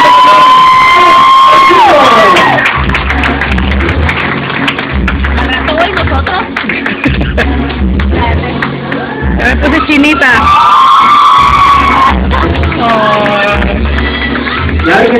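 A party crowd cheers, whoops and shouts to welcome a quinceañera, loud and continuous. A thumping bass beat from music plays beneath, and a voice rings out over the noise.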